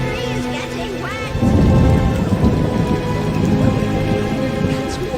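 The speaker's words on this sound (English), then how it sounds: "What a downpour!" Rain and thunder in The Witcher PC game, a dense rain hiss with a deep rumbling roll of thunder building partway through, under background music and some speech.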